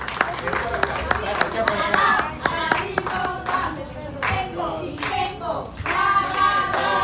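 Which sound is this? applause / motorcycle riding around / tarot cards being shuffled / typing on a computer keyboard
applause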